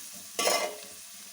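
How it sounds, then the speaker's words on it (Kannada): Fried rice ingredients hit hot oil in a street-style pan, giving a short, close burst of sizzling that swells for about a quarter second and then settles back to a quiet background. "ಇದು ಸ್ವಲ್ಪ ಚೆನ್ನಾಗಿ ಎಣ್ಣೆನಲ್ಲೇ ಫ್ರೈ ಆಗಲಿ."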